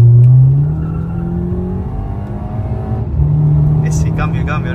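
A Volkswagen Vento 2.0T stage 2 accelerates hard from inside the car, its engine note climbing steadily, dropping at a gear change, then pulling loudly again.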